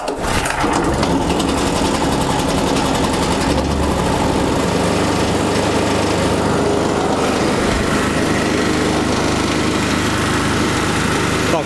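A gas-fuelled electric generator runs loud and close, a steady buzzing engine drone that barely changes across the whole stretch, with no talking over it.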